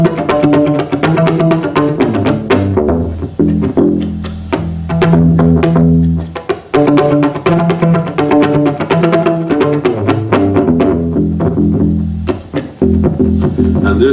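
A Kala U-Bass, the short-scale ukulele bass, plays a continuous run of deep, rounded notes with steady rhythmic plucking, loud and close, with no voices.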